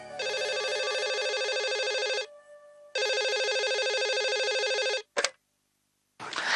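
An electronic telephone rings loud and close in two long bursts with a short pause, then a brief blip and the start of another ring.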